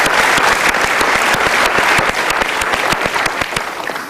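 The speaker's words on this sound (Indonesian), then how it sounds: "Tepuk tangan sekali lagi untuk sahabat-sahabat kita dari kita Marata." A live audience applauds loudly and steadily, dense clapping filling the space without a break for the whole stretch.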